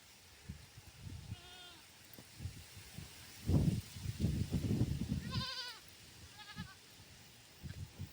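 Goats being herded outdoors bleat in short, wavering calls, one early and a pair near the end, amid rustling and soft shuffling footsteps, with no talking.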